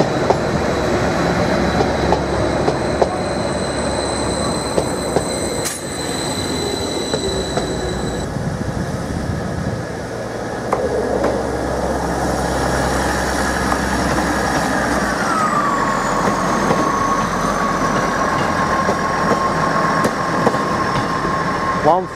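Class 755 unit 755-408 arrives at Ely station bound for Stansted Airport, rumbling in with wheel squeal and a rising electric whine, while station ambience and a faint voice sit underneath.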